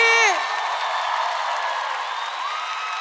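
Live concert crowd cheering and applauding, a loud sung note fading out at the start before a steady wash of clapping and whoops fills the rest.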